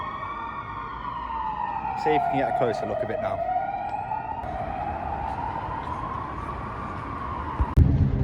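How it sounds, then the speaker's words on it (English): A wailing emergency vehicle siren rises and falls steadily in the background of a Budapest street while a person talks nearby, with street noise and a brief clatter near the end. "Now there's sirens everywhere."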